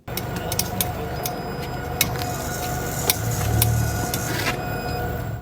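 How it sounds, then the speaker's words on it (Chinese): A car's modified brake disc hat slipping against the wheel hub face, an abnormal noise: a steady hum and whine with repeated sharp ticks and a swelling low rumble near the end, with no talking. "这个声音是来自于刹车盘的合头与轮毂贴合面的摩擦力不够"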